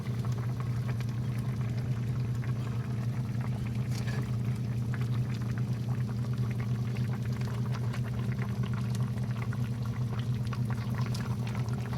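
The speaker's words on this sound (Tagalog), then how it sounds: "kumukulo na po yung aking nilulutong patola" A pot of patola (sponge gourd) soup boils steadily on the stove, with a continuous bubbling and simmering rumble that holds at an even level throughout, with no talking.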